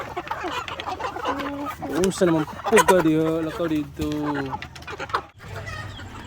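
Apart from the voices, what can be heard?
white leghorn chickens clucking while being fed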